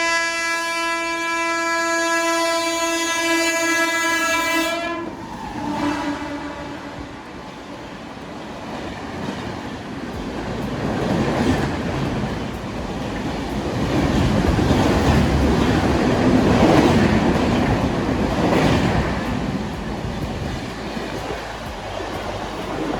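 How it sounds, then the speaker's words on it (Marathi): A train arrives at Babina railway station, opening with a long loud horn blast, then the rumble and rhythmic clatter of wagons rolling through close by, swelling and continuing steadily to the end. "आता इथून ट्रेन येणार आहे वाटतं नवीन"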